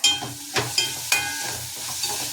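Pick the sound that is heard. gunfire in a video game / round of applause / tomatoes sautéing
tomatoes sautéing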